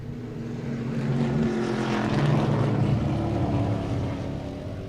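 GT race cars circuiting Sebring International Raceway, a steady blend of engine drone swelling and fading as cars pass at middle distance, with no talk heard.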